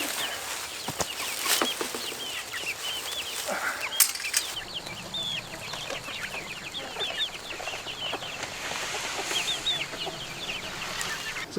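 Chickens, including a rooster, cluck and chirp inside a brooder built with hardware cloth, with occasional wing flapping and light rustling, all fairly faint and close.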